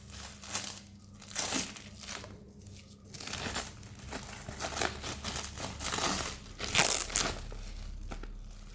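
Packaging around a 40 mm Nordgreen Philosopher watch box being unwrapped: close, crinkly rustling and tearing of wrapping material in irregular bursts, with a few louder crackles, no talking.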